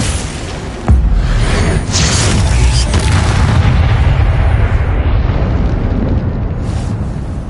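A Confringo blasting spell in Hogwarts Legacy goes off with a sudden loud boom, then a long roaring, crackling explosion that slowly fades.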